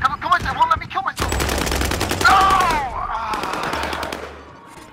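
Rapid automatic gunfire in a shooter video game, a long loud burst of shots with game effects and sweeping tones, while a player's voice is heard briefly at the start.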